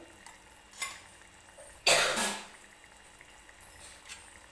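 A spiced masala mixed with ground peanut powder is stirred in a pan, heard as a few soft, quiet scrapes and one louder, brief rustling sweep of the spoon.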